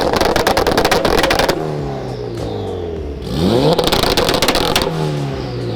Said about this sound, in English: Andy also added two-step to the car